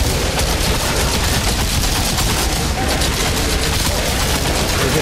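Dense, continuous gunfire from enemies in the shooter game Outriders, with rapid overlapping shots and bursts at a loud, unbroken level throughout.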